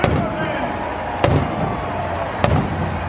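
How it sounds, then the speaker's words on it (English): Two sharp booming stadium cannon blasts ring out about a second apart over a constant roar of a large crowd at a Tampa Bay Buccaneers football game. "Fire the cannons."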